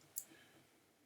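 A single crisp mouse click on a computer, opening ABBYY FineReader 14 on Windows, sounds once near the start, close and brief over a faint room hiss.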